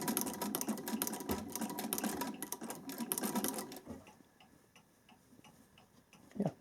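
A vintage Singer treadle sewing machine with a Swiss zigzag attachment runs at speed, a fast loud mechanical ticking clatter that stops partway, leaving quieter scattered clicks and a final knock.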